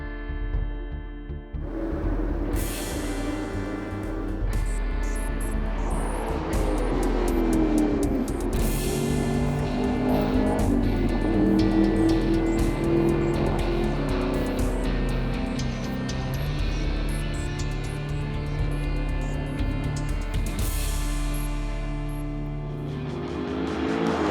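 A 2014 Chevrolet Camaro Z28 driven hard around the Barber Motorsports Park racetrack in Birmingham, Alabama, its loud engine rising and falling steadily through gear changes, with brief tire squeal and no talk.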